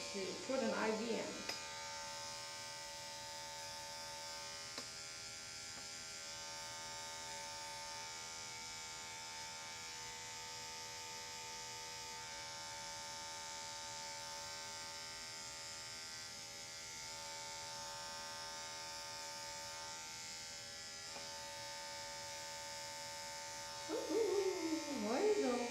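Dog grooming clippers fitted with a size 40 blade buzz in a steady, close electric drone that holds for the whole stretch, with brief louder bursts of other sound near the start and end.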